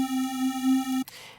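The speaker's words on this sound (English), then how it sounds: "Basically I took this waveform, which sounds like this" A synthesizer pad waveform plays alone as a steady sustained tone for about a second, then cuts off abruptly, leaving a brief fading tail.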